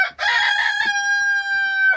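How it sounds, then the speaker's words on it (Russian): Leningrad Golden breed rooster crows loud and close in one long, sustained call, preceded by a brief rough cluck and ending on a held tone. "Петушок ленинградской золотистой"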